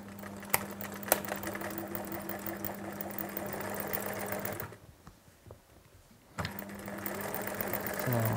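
Sewing machine running a zigzag stitch along the centre front of a knitted cardigan, steady mechanical hum with a couple of sharp clicks, pausing briefly near the middle before resuming, close and continuous.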